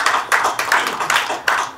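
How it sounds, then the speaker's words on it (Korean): An audience claps to welcome a speaker at an online memorial rally for the Cheonan warship sinking, with several uneven surges of hand claps over a short stretch. "심재동님 큰 박수로 환영해 주십시오."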